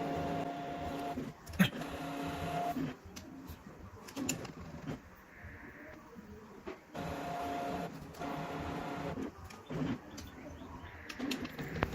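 Brother DCP T710W inkjet printer running its print head cleaning cycle, a continuous mechanical whirring with repeated clicks, knocks and shifting motor pitches that cycle in waves over about twelve seconds, no talking.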